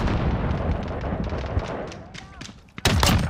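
Gunfire in the video game Call of Duty: Modern Warfare rattles over dense, continuous battle noise, ending in a loud, sharp burst near the close.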